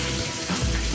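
Fresh fish sizzles in a hot pan, a dense steady crackling hiss heard up close without any talking.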